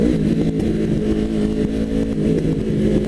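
A 2019 Yamaha R3 motorcycle with a loud aftermarket exhaust rumbles steadily at close range, its deep, throaty engine note holding near idle with slight fluctuations throughout.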